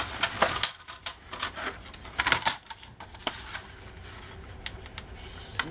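Paper strip being cut for a scrapbook folio, with a series of sharp, crisp snips and clicks in quick irregular bursts, close up, then lighter ticks and rustling.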